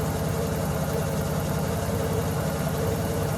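A 1984 Nissan 300ZX idles smoothly at low revs, its steady engine rumble close and continuous with no voices.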